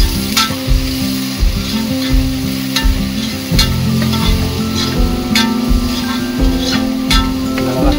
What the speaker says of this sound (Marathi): कांदा टाकते, चांगला भाजून घ्यायचा